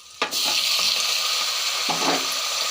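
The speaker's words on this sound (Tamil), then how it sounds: "தக்காளி நல்லா மசிஞ்சு வதங்கி வரட்டும்" Chopped tomatoes sizzle steadily in a hot pan for a Tamil-style kuzhambu, a loud continuous frying hiss with a sharp burst as they go in and soft stirring scrapes near the end.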